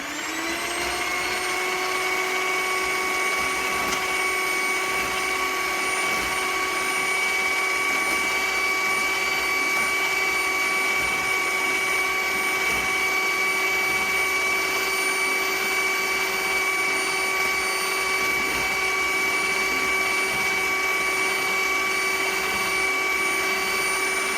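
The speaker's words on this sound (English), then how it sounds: "I'm going to whisk it just for a little bit more" Electric whisk beating aquafaba with caster sugar, a loud steady high-pitched motor whine that holds constant and unbroken throughout, with no talking.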